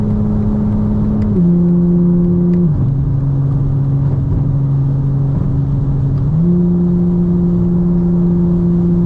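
Custom 2025 BMW M4 CS cruising in seventh gear around 3,500 RPM, a steady loud cabin drone with low engine hum that shifts pitch slightly a couple of times.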